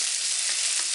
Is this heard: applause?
no